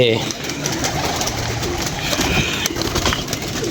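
Pigeons cooing softly amid a continuous background of voices and ambient noise, with the birds' low calls repeating throughout.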